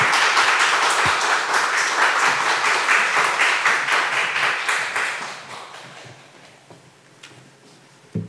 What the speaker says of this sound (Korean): 나오실 때 박수로 환영해 주시기 부탁드리겠습니다